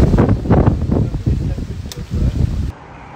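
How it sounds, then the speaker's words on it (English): Strong gusting wind buffets the microphone outdoors, rumbling in uneven surges before cutting off abruptly near the end. "I'll put in a clip to show you how windy it is."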